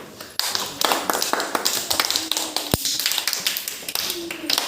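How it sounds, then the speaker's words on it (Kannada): Small children clap their hands during a classroom maths activity, a run of quick, sharp claps close by while a voice speaks over them. "ಚಪ್ಪಾಳೆ ತಟ್ಟಿ"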